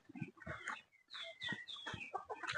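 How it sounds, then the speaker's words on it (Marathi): Chickens cluck close by in a quick cluster of short, overlapping calls and squawks with a brief pause midway, fairly quiet and without talk. "ह्यातल्या एवढ्या भारी भारी कोंबड्या आहेत"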